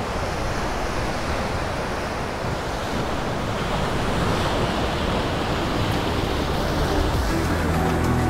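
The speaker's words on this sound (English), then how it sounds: "Back over here, some big waves." Big ocean waves breaking on a shore, a loud continuous roar of surf with wind noise on the microphone throughout.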